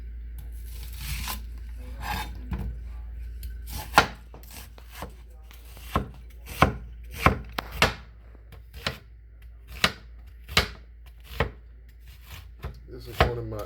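A knife chops onion on a cutting board for a pork roast, a series of sharp, distinct knocks at an irregular pace, close and fairly quiet, with no talk over them.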